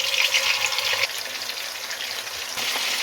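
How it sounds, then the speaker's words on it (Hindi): Kebabs frying in hot oil in a wok, a steady bright sizzle and crackle that drops slightly in intensity partway through, with no talking. "जब ऑयल गर्म हो जाए तो इसमें जो कबाब हमने बनाए हैं उसे फ्राई कर लें।"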